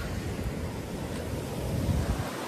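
Sea waves wash in at the shore, a continuous broad roar of surf with rumbling wind buffeting the microphone, steady and fairly close throughout.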